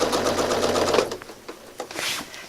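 Sewing machine stitching a quilt, a quick steady run of rhythmic mechanical stitching that stops after about a second, followed by a few faint clicks and rustles.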